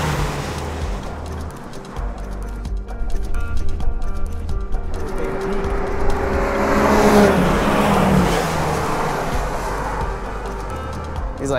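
Porsche race cars run on a wet race track, engines droning steadily and swelling as cars pass by, with a continuous roar and road spray hiss throughout.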